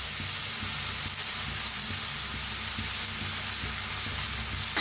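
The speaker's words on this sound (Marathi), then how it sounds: "हलवून सगळं मिक्स करूया भाजी." Shevga (drumstick) bhaji being stirred in a hot pan, a steady close sizzle and frying hiss with soft scraping of the spoon, no talking.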